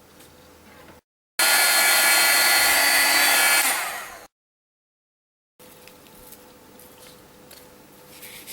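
A heat gun melts white embossing powder on black cardstock, blowing a loud, steady hiss for about three seconds before cutting off, with quiet room tone around it.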